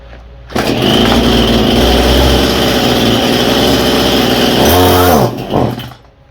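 A Stihl MS171 chainsaw with a carburetor issue fires up and runs at a loud, close buzzing idle, revs briefly near the end, then cuts out and sputters once before falling quiet.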